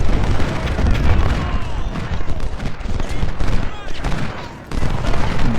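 Rumbling booms and crackling volleys of artillery and musket fire roll through a First Bull Run video game battle, continuous and layered at moderate loudness.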